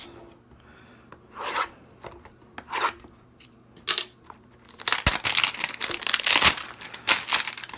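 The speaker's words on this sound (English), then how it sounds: "let's rip this 2023 Heritage Hanger Box" A 2023 Heritage hanger box of trading cards torn open by hand: a few scattered tears and rustles first, then a burst of loud, close cardboard and plastic ripping and crinkling.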